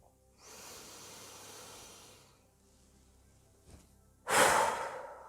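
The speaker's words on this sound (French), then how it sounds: "On va inspirer par le nez en gonflant le ventre et la poitrine. Encore, on gonfle bien. Et on souffle." A person breathes deeply during a relaxation exercise. A soft, drawn-out inhale through the nose lasts about two seconds, then after a brief pause comes a louder, forceful breathy exhale, close to the microphone, with no talking.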